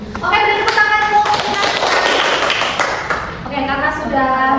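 A classroom claps for a student group, a burst of many hands lasting a few seconds between a teacher's spoken remarks.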